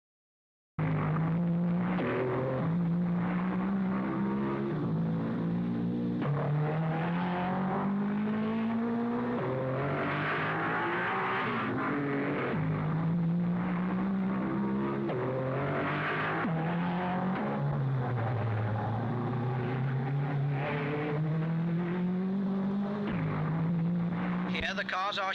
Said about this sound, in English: here the cars are shooting away from the railway arches onto the sea front